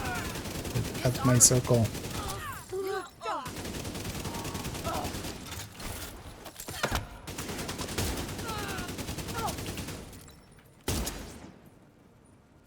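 Video game gunfire with bursts of rapid shots and single cracks among other game sounds, with a voice talking briefly over the action.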